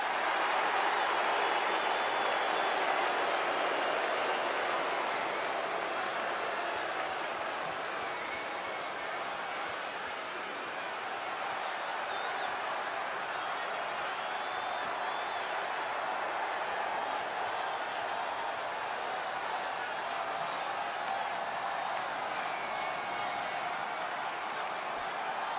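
Arena crowd before a steel cage wrestling match, a broad continuous roar of cheering and clapping heard at a distance, steady and sustained with no single voice standing out.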